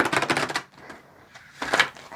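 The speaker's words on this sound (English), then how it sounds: "I'm going to give this one more quick little shuffle, and then we'll pull the card out." A tarot deck shuffled by hand in two quick bursts of dense, riffling card flutter, close and crisp, separated by a brief lull of quieter handling, with no talk.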